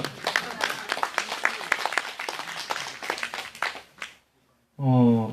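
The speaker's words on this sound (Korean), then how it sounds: "이거 박수 한번 쳐야 되는 거 아니에요?" Crowd applauding at an outdoor anti-THAAD protest rally in Soseong-ri, South Korea, a dense patter of many hands for about four seconds, then a brief lull before a loud voice cuts in.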